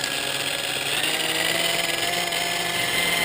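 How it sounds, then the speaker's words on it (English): A Hitachi variable speed buffer set to about 1,000–1,100 RPM polishes metal, giving a steady, loud motor whine and whir that holds constant throughout with no voices. "I'm going to use the Hitachi variable speed buffer."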